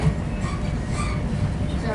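Onboard rumble of a GWR Class 43 Castle Class HST slowing down between Penzance and Plymouth, a steady low, dense roll of wheels and engine under near continuous talk.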